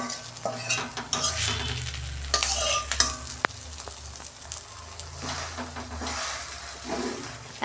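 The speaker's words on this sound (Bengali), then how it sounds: "আমার মাছের ডিমটা ভাজা হয়ে গেছে" Fish roe frying in a pan for a home-style Bengali recipe, giving a steady close sizzle with occasional stirring scrapes and spatters throughout, no talk.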